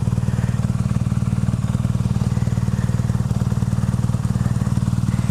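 A 2015 BMW R nineT motorcycle engine idles up close with a steady, low, rumbling pulse throughout, loud and even with no speech over it.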